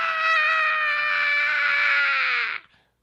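A single voice imitates protesters screaming: one loud, high, sustained shriek lasting about two and a half seconds, close and alone, then cut off abruptly.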